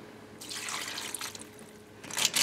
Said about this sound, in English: we're going to add 2 cans of water.